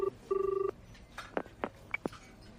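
An office telephone rings in two short electronic bursts near the start, followed by a few faint clicks and quiet beeps.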